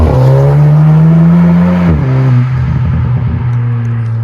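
A Volkswagen Golf 7 GTI TCR with 290 horsepower drives past close and loud, its engine note droning, then dropping in pitch as it passes, followed by a lower rumble as it moves away.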